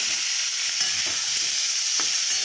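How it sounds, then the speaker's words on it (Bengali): Paneer frying briefly in a little oil, giving a loud continuous hiss with occasional stirring scrapes, close and alone. "এটা একটুখানি ভেজে নিচ্ছি"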